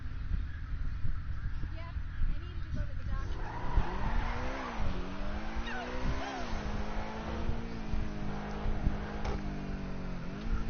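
A car driving in a PS4 racing game: a revving engine whose pitch climbs and dips, broken by drawn-out tire squeals and skids, loud and continuous throughout.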